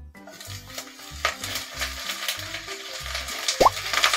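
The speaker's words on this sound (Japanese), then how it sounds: "ここへ野菜を入れます。" Vegetables tumble into a pot of shallow olive oil and are stirred, giving soft knocks, plops and a light sizzle at close range, with a short squeak near the end and no talking.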